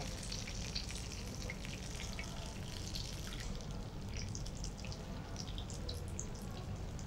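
Sabudana vada, sago fritters, getting their second fry in hot oil, giving a steady, fairly quiet sizzle and crackle with soft popping bubbles that carries on evenly throughout.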